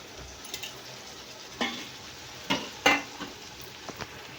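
Mint and coriander being stirred into softened tomatoes in hot oil, with a low steady sizzle broken by a few scraping stirs and soft utensil clatters close by.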